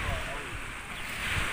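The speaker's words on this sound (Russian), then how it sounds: "Смотрите, какое море замечательное" Sea waves wash against the seaside shore in a steady broadband rush, with wind buffeting the microphone throughout and low rumbling surges.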